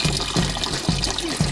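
Spring water trickling steadily at a natural mountain water source on a peak trail in Serra do Papagaio State Park, Minas Gerais, a close, continuous liquid babble with soft gurgling pulses and no talking.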